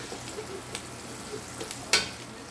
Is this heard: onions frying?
yes